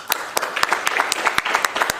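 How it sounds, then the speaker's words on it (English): An audience at a school scholar talks event gives student presenters a round of applause: sharp, distinct claps in a loose, uneven rhythm from a modest crowd, fairly close and clear for about two seconds. "Why don't we give all of our scholars a special round of applause?"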